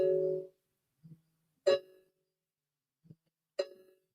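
An old phone's alarm rings in repeating chime-like bursts, a sustained tone followed by sharp dings about two seconds apart, separated by fainter soft blips and silence.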